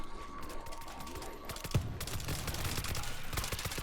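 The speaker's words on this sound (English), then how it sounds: "Well, there's a grenade." A grenade goes off in the World War Z zombie shooter: one sharp blast about halfway through, set in a constant loud din of gunfire and game noise.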